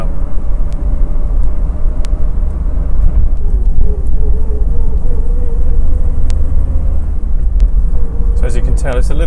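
A Triumph TR7 engine idles roughly with a low, uneven rumble, holding steady throughout and audible beneath occasional speech.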